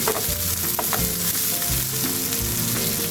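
Chopped onion frying in plenty of hot oil for a spicy Gulsha fish curry, a loud, steady, dense sizzle with crackling throughout and no voices.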